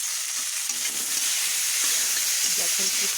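Mixed vegetables seasoned with salt and turmeric fry in a pan, giving a continuous close sizzle with light bubbling crackle and occasional soft stirring knocks.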